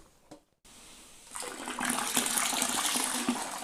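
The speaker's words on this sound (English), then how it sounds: "This is just cold water from the tap. Fill it up until you come to the 23 litre mark." Cold tap water runs into a plastic home-brewing bucket, a steady broadband rush that starts after a brief pause and swells into a continuous pour, close and fairly loud.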